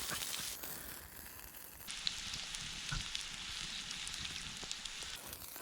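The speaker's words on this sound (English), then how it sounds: "Have a listen to that sizzling away." Chicken breast sizzles in a pan over an open campfire, a steady, faint crackling fry that runs continuously with small pops throughout.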